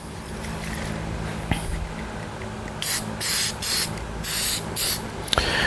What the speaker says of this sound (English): spray some silicone on the rubber